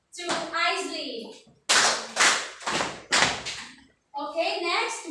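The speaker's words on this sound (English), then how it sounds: "So let us give 2 claps and 2 stumps to Isley." A classroom of children clapping in unison, a few loud rhythmic claps and stomps in sequence, close and crisp, with kids' voices chanting around them.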